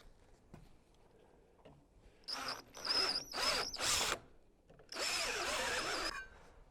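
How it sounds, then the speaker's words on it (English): A power drill bores holes into wood to fit a Simpson Strong-Tie CPT66Z concealed post bracket on a 6x6 post: three short whining bursts, then a longer one, loud and close, with quiet handling sounds between and no speech. "we'll get this next set of holes drilled here"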